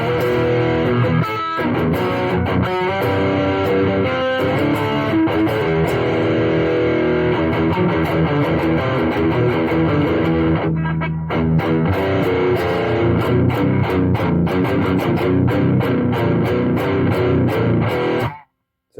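An electric guitar, a Raven Strat, plays through a Boss Super Overdrive pedal, a loud, continuous crunchy distorted tone strumming chords and riffs without letup, with a brief dip near the end before it cuts off.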